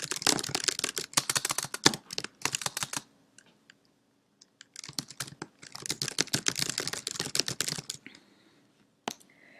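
Someone types on a computer keyboard while writing in a Google Doc, with rapid bursts of close, crisp key clicks broken by short pauses and no talking.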